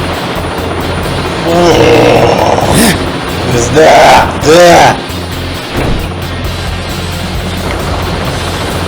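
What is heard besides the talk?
helicopter flying in Teenage Mutant Ninja Turtles 2003 video game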